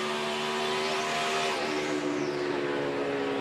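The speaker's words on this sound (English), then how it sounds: "You hear the engine kind of rev up and change sounds." NASCAR Sprint Cup race car engines at Dover International Speedway during the 2014 FedEx 400, a steady loud drone of several cars with a pitch that rises and falls as the engines rev and pass.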